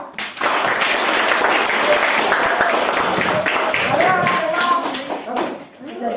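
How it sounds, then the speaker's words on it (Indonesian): A class of students claps together during a science lesson, giving dense, continuous applause that stays loud and even, with a few voices mixed in before it thins near the end. "kita berikan tepuk tangan untuk kita semua ya."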